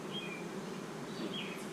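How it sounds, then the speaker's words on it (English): Massed bees in a hive drone in a steady, even buzz at close range, with a faint bird chirp or two far in the background. "Shit ton of bees"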